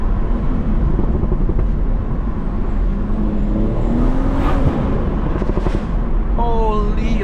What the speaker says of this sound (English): the exhaust is not that loud, but the pops are